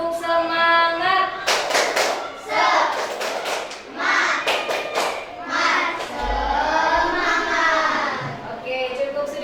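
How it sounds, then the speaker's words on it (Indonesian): Students in a classroom perform a rhythmic group clap, bursts of sharp hand claps and thumps in patterned sequences, with children's and a teacher's voices chanting between and over the clapping. "Tepuk semangat."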